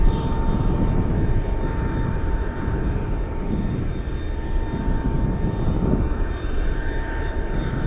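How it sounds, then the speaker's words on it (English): An Atlas Boeing 777 cargo jet landing at Anchorage on runway 15 in gusty wind produces a loud, continuous engine roar with a steady tonal whine, close and sustained throughout. "Triple 7 coming in."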